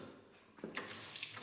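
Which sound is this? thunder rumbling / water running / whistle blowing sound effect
water running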